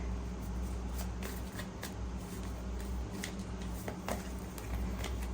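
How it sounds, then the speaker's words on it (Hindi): Tarot cards being shuffled by hand, a steady papery riffle and slide with soft repeated flicks, close and continuous over a low background hum, with no voices. "I will shuffle again."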